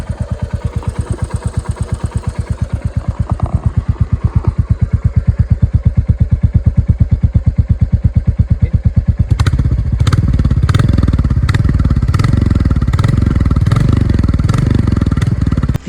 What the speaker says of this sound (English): the main worried thing about this bike is the thumping sound or the signature beat